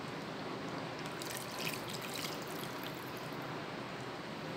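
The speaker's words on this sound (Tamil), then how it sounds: "இது நம்ம மாவு கரைச்ச தண்ணி கடைசியில் அந்த பவுலில் இருந்ததை கரைச்சி இப்போ இதில் ஊற்றிடலாம்" Flour-mixed water poured into a pan while cooking thakkadi, a steady soft trickling and splashing of liquid, continuous and close with no talk over it.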